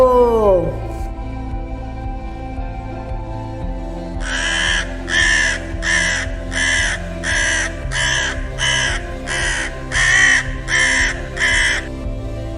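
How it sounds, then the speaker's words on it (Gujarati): A crow caws about a dozen times in a steady, evenly spaced series, loud and close, over a continuous musical background. "ક્રો એટલે કાગડો."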